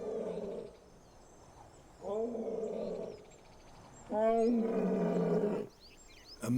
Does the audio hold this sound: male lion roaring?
yes